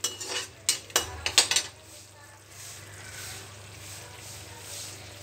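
Tomatoes, green chillies and ginger paste cook in a pan for a potato curry. A few sharp clinks of a spoon against the pan come first, then a soft, steady sizzle carries on alone.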